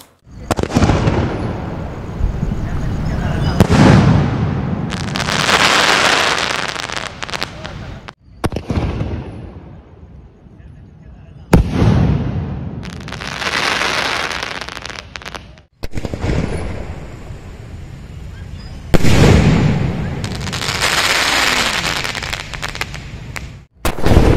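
Sony Fireworks Texas Rider shells fired outdoors, giving repeated loud booming bursts followed by long crackling, sizzling showers, in several waves separated by brief lulls, with some voices faintly underneath.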